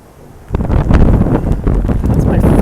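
Gusty typhoon wind from Typhoon Hato sweeps through Hong Kong, starting quiet then surging suddenly into a loud, steady roar buffeting the microphone for the rest of the moment.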